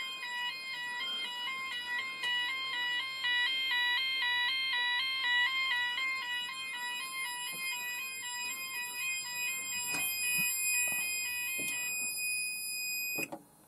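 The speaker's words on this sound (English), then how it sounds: "So there we go, both garage detectors activated." Garage fire detectors on a Gent addressable fire alarm system sound during a test: a loud, continuous electronic alarm of alternating stacked tones, steady throughout, with a few faint clicks and knocks beneath, cutting off at the very end.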